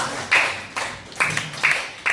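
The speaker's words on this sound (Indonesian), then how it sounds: "tepuk tangan anak-anak" Children in a Quran recitation lesson clap in unison, a few evenly spaced loud group claps roughly every half second, close and distinct with quiet between.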